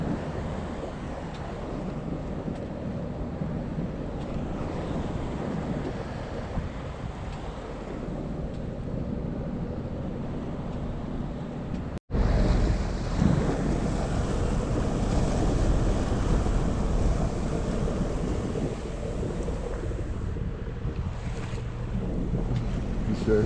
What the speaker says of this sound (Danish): Surfer på bølgerne.